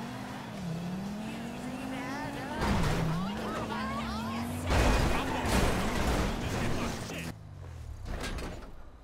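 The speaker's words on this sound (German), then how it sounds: "Fahr gerade einfach nur rum und" A car driving in GTA Online, its engine holding a steady drone that rises and dips with gear and throttle changes, close and continuous under a talking voice, with a sharp knock near the end.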